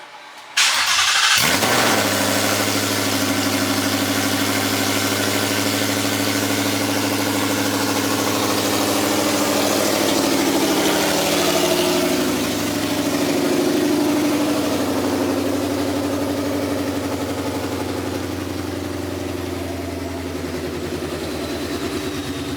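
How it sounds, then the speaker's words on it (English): A Roush car engine with open headers cranks and fires, then roars loudly and steadily with a raw, unmuffled rumble for the rest of the clip. "It's open headers right now, so Okay. it's very loud."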